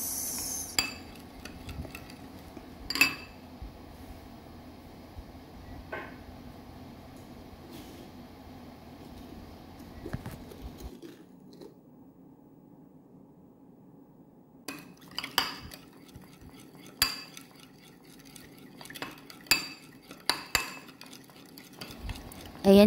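A spoon stirs black pepper into chicken stock in a pan, with soft swishing, scattered clinks against the pan, and a quiet stretch midway before the clinking resumes.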